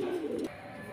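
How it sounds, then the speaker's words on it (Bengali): A quality pigeon at a pigeon farm gives a single low coo, close and fairly quiet, fading after about half a second into faint background hum. "অসম্ভব সুন্দর একটা কোয়ালিটিফুল কবুতর।"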